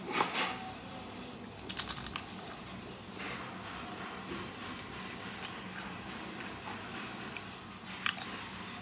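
Pizza-flavored Pringles chips are crunched and chewed up close, with quick clusters of crisp bites and softer chewing between them, fairly quiet and with no talking.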